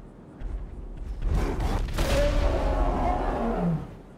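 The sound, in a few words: roar of the demon Atrox in a GTA 5 mod video game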